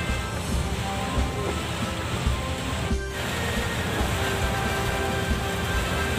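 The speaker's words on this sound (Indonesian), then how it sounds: "Hujan luar biasa malam ini," Heavy rain falls at night, drumming steadily on a cabin shelter in an unbroken, loud wash of patter, with no voices.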